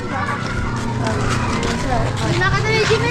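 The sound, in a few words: car passing on the street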